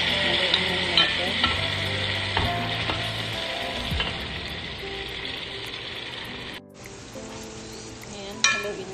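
Rice fries in a pan under repeated stirring, with a bright steady sizzle, scraping spatula strokes and sharp metallic taps against the pan, near and fairly loud.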